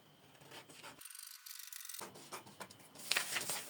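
Fabric being cut for the back piece of a sleeveless top, with soft scraping, rubbing snips close up and fairly quiet, a few sharper scissor clicks near the end.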